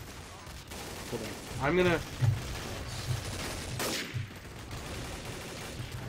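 AK rifle fire in Counter-Strike: Source, a short fusillade of shots heard under someone talking.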